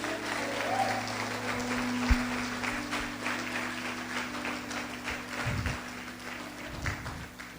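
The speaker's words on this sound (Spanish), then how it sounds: "Alguien dio un fuerte aplauso a Cristo esta mañana." A church congregation applauding loudly for Christ during an evangelical service, a dense, sustained round of clapping with scattered voices underneath, fading slightly toward the end.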